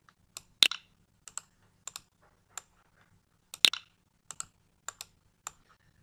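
Sparse keystrokes on a computer keyboard mixed with mouse clicks, about a dozen close, crisp taps with uneven pauses between them and two louder clicks.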